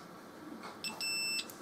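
A multimeter on continuity test, probes across two wires of a computer audio power supply, gives a single short high-pitched beep, close and faint against a quiet background.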